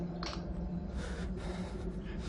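In a Thai horror video game, heavy, breathy exhales and inhales come in a few separate puffs, close and fairly quiet over a low background hum.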